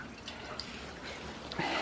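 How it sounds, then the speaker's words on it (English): Water dripping from a small leak in an exposed tank valve after a freeze-burst pipe, heard as a steady wet trickle with faint splashes, close by and without voices. "dripping happening right there."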